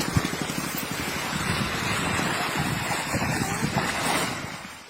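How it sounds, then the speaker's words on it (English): An ice dam breaks on a frozen river, a roaring surge of rushing water and churning fractured ice sweeping through, with wind buffeting the microphone throughout. "the sudden release of pent-up water creates a dramatic wave of fractured ice"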